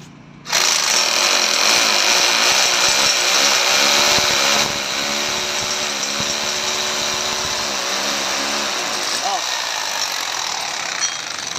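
A power drill bores through the metal of a window grill during fabrication and installation, a loud steady whine that runs for several seconds, then settles into a lower grinding hum while a voice talks over it.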